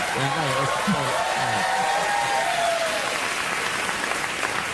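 Studio audience at a late-night talk show applauding in a steady, dense wash of clapping that fills the whole stretch, with a voice talking over it early on.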